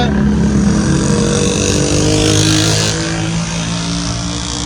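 Auto rickshaws making engine noise on a street, a steady dense rumble of motors close by that holds continuously and eases slightly toward the end, with no clear speech over it.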